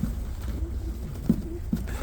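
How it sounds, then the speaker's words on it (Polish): Pigeons at an outdoor pigeon market coo softly in two or three brief low calls over a steady murmur of background bustle. "Nagrywam gołębie pana Adama, to bociany."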